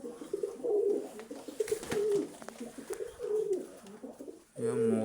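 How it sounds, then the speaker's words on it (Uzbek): Pigeons, including long-bodied fancy breeds, coo in repeated low bubbling phrases close by, with short pauses between calls and a brief burst of flapping or rustling near the end. "Ana juda uzun kaptarlar ham kelib qoldi mana."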